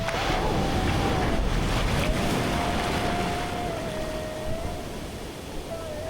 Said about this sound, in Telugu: అలలు కూడా బాగా క్రేజీగా మాన్స్టర్ వేవ్స్ లా లేవు, చక్కగా డీసెంట్గా కంటిన్యూస్గా వస్తున్నాయి